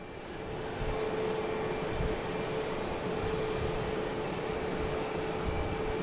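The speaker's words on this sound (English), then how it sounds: "We got Air France out here, heading back to Paris. Flight 333 and A350-900." An Air France Airbus A350-900 at Boston Logan airport gives a steady, loud jet engine roar with a broad rumble and a faint constant whine, holding even for the whole stretch with no voices.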